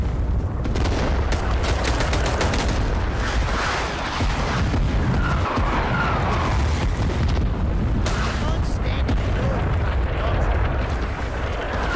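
Loud, dense gunfire and explosions from the Vietnam War shooter game Rising Storm 2: Vietnam, with rapid shots and booming blasts filling the scene continuously while a voice talks over the combat.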